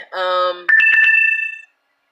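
A phone rings loudly in two bursts, a short buzzy tone and then a brighter warbling ring, with nobody speaking over it.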